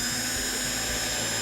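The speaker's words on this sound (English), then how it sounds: "This is a very tiny drill bit on a different drill" A drill fitted with a very tiny bit bores pilot holes through the pinholes of a hinge jig, giving a steady high-pitched whine that runs throughout with no speech.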